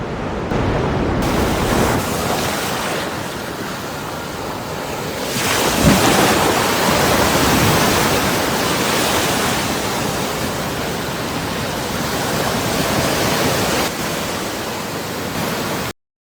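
Heavy storm at sea with rough water and wind, a loud continuous roar of surf and gusts over the whole stretch with no voices.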